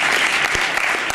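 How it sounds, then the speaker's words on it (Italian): Brief burst of dense audience applause for a film's director at a documentary presentation, loud and continuous from start to finish. "facciamo un applauso anche lui"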